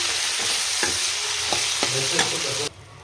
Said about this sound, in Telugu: సేమ్ మీడియం ఫ్లేమ్లో పెట్టేసి బాగా ఫ్రై చేసుకోవాలి